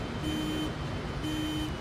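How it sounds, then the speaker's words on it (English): Overspeed warning horn in a Fokker F28 cockpit in a flight simulator game: two steady tonal blasts, each about half a second, separated by a short gap, clear and continuous over a faint background hum. "We got the overspeed alarm right now."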